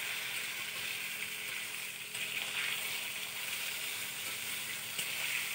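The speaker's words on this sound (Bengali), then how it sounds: "একসাথে মিশিয়ে আবার কিছুক্ষণ ভেজে নেব।" Potatoes and eggplant fry together in hot oil for a fish curry, giving a steady, close, fairly soft sizzle that runs without pause and with no voices.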